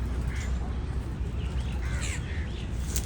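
Crows caw among a mixed group of feeding animals, including parrots, squirrels and pigeons, as several short harsh calls rise over steady outdoor background noise while a voice talks nearby.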